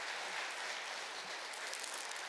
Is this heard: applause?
yes